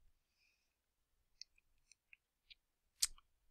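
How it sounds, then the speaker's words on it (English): Sparse, faint clicks of keys on a computer keyboard as data is entered, a handful of separate taps with gaps between them and one slightly louder keystroke near the end. "I'm just typing in the data that you saw in the image"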